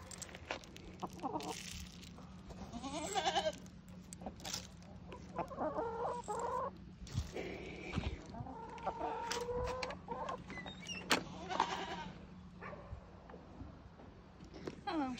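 Several chickens cluck and squawk nervously close by, overlapping continuously, with a low steady hum underneath.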